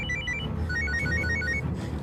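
A telephone rings with a repeating electronic trill, steady and fairly close, over a low background hum; no one speaks.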